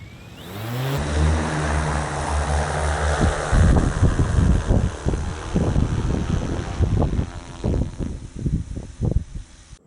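A drone flies outdoors during a car-scanning job, its steady propeller whine and buzzing wind rush shifting into louder, choppy rumbling gusts as it moves, close and with no talk.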